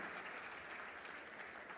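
Applause from an audience honouring India's Paralympic athletes, a dense, steady wash of clapping that stays even throughout, heard quietly and at a distance.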